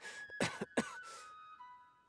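A person coughs several times in quick succession, close and fairly loud, then trails off into quiet with a faint tonal hum.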